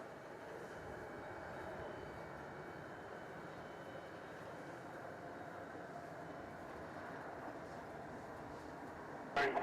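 A Cathay Pacific airliner approaches to land at Melbourne Airport, heard as a faint, distant, steady engine roar that holds evenly over the whole stretch, with a brief louder knock at the very end.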